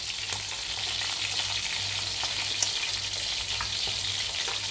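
Food sizzles steadily in a frying pan, a constant crackling hiss with small pops, heard on its own without talk.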